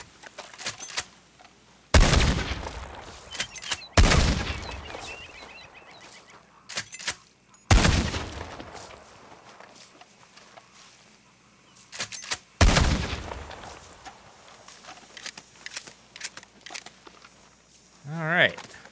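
Heavy gunshots in Red Dead Redemption 2 free roam, four loud booming blasts spaced a few seconds apart with decaying echoes, separated by quieter stretches and a brief voice near the end.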